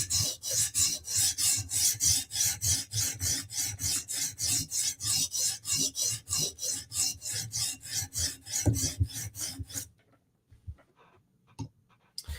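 Knife blades, a Spartan Harsey and a ZT, drawn across a sharpening stone in rapid regular back-and-forth strokes, a close gritty rasping rhythm that stops near the end, leaving a few faint scattered clicks.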